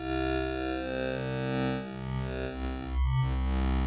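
A gritty, distorted synth plays a sustained chord through bit crusher distortion, a Braids wavetable on a Plaits module in a techno patch, its harsh buzzing texture shifting slightly as lower notes move underneath.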